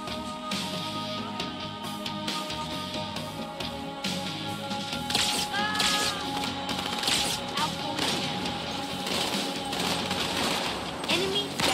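Gunfire in the Halo 2 Anniversary video game, with repeated sharp reports and thuds amid dense in-game sound, fairly loud throughout.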